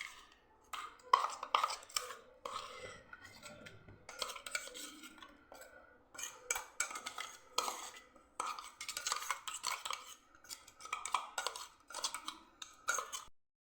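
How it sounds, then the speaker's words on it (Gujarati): Corn dhokla batter with coarsely ground corn kernels being stirred in a bowl, with repeated scraping and clinking strokes of a spoon against the bowl in uneven bursts, close and moderately loud with no talking. "એકદમ સરસ આપણે મિક્સ કરી લેવાનું ગાંઠા ના રહેવા જોઈએ"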